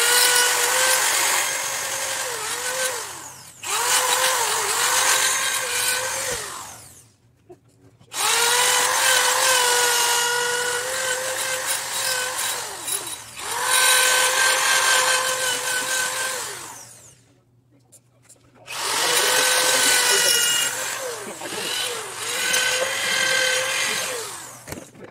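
A power drill fitted with a burr bit grinds down a metal engine girdle in three long, loud whining bursts, with short quiet pauses between them.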